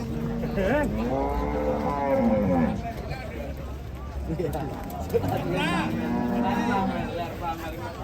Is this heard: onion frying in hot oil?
no